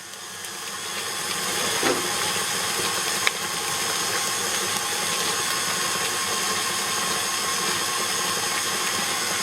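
Electric hand mixer whirring steadily as eggs are beaten into gingerbread cookie dough, a continuous loud hiss-like drone with a brief clunk partway through.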